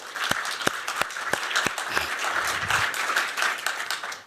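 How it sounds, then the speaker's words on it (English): An audience at a keynote panel at Washington University in St. Louis breaks into steady applause, many hands clapping close together, with a few sharp individual claps standing out. "Let's give them a round of applause."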